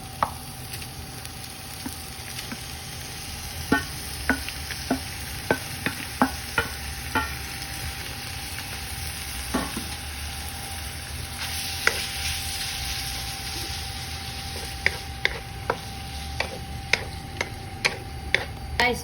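Ground beef fries in a little oil with a soft, even sizzle. Sharp ticks and scrapes of a utensil striking the pan sound at an uneven pace, close by.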